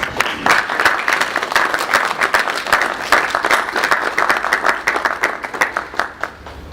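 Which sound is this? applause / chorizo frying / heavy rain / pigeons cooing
applause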